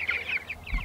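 Chickens cluck close by at a chicken tractor fitted with a hanging bucket waterer, a few quick bursts of clucking in brief succession, no voices.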